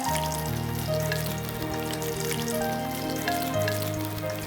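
Mutton cutlets fry in oil with a steady, bubbling sizzle and scattered crackles, heard close and continuous, alongside a sustained tonal hum in the background.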